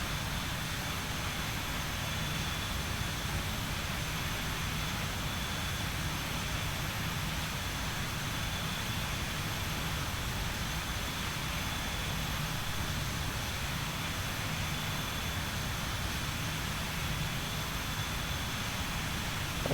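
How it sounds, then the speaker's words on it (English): A BAe 146-300 airliner taxiing in the X-Plane 11 flight simulator, a steady droning engine hum with broadband hiss, even and unbroken, with no talking. "The taxi is a bit long, so I'll catch you at the end of it."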